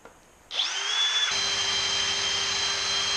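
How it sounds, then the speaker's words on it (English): A power drill bores into a car crankshaft for a supercharged Trans Am build, starting abruptly after a brief lull and then holding a loud, steady high-pitched whine with a low hum beneath, close up and without talk. "And we're going to drill until the tape."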